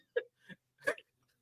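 A single sharp sneeze bursts out near the mic, followed by two smaller vocal bursts, with quiet between them.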